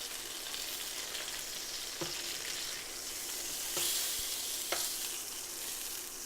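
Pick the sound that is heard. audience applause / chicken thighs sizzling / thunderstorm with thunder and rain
chicken thighs sizzling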